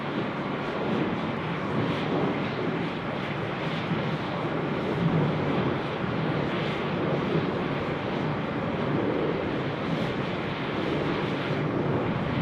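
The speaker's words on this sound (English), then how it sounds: "738 getting airborne there off 34 right, and that Velocity aircraft is departing" A Velocity Boeing 737-800 lifts off runway 34 Right at Sydney Airport, bound for Melbourne, its jet engines a steady, broad roar heard from a distance throughout, with no voices.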